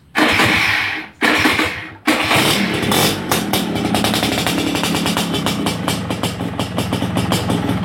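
A motorcycle engine being started after a two-month break-in gives two short bursts, then fires on the third try and settles into a loud, close, steady idle.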